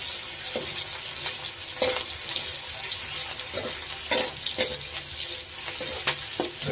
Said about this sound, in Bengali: বাগার দিব আমরা, পেঁয়াজ মরিচ ভেজে দিচ্ছি।